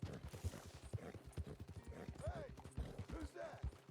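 A horse's hooves clip-clop in a steady, close rhythm in Red Dead Redemption 2, with a brief whinny-like tone mixed in and voices talking over the hoofbeats.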